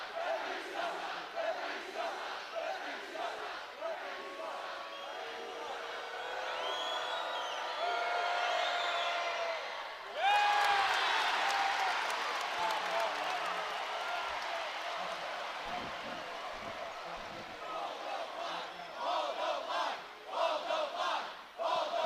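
Basketball arena crowd at Fresno State at Utah State, a loud sustained roar of cheering and shouting that swells around the middle with a sharp whistle, then stays dense and busy with scattered yells throughout.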